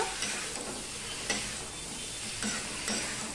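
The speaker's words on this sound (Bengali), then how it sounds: "দেখো শিমের সাথে আলুর সাথে আমি সম্পূর্ণটা মিশিয়ে নিলাম" Fish curry with beans and potatoes stirred and sautéed in a pan, a steady close sizzle broken by several sharp scraping strokes of the spoon against the pan.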